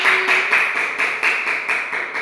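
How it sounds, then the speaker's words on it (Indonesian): A fourth-grade elementary class claps for a classmate, a brisk, even rhythm of many hands beating together in unison, fairly loud and steady with no talking. "Beri aplaus kepada Gini."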